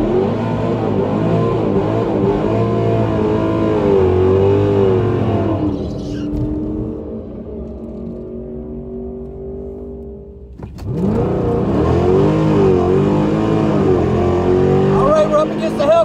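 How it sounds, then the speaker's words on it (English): Modded 5.7 Hemi car doing a burnout at a dragway, a loud sustained roaring engine with revving that dips midway, then surges back hard, heard close with voices speaking over it. "Did a pretty good burnout."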